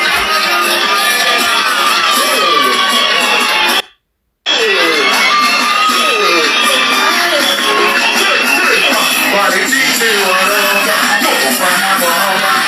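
A big stadium crowd roars and cheers without letup at a J John show in Giyani, with whoops and shouts over the din; the noise cuts out for a split second midway, then surges back just as loud.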